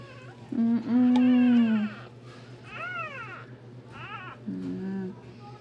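A kitten meows several times up close, with thin, high, drawn-out cries separated by short pauses over a steady background hum.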